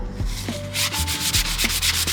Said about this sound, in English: Just need to sand this off. Next step, sanding it a little bit.